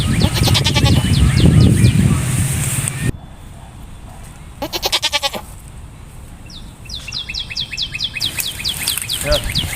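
Goats bleat in short, quavering calls over busy outdoor noise, with birds chirping rapidly nearby.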